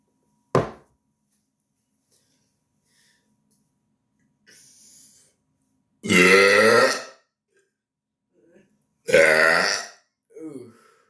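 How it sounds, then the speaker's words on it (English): Two long, loud, guttural human burps sound up close after a sharp click, with brief quieter throaty noises and breaths between and a short trailing grunt at the end. "Some loud burps."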